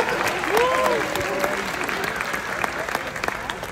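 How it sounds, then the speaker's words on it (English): Audience applause at a talent-show style stage event, a continuous dense wash of clapping throughout with a few faint calls or whistles mixed in. "give Luann a round of applause"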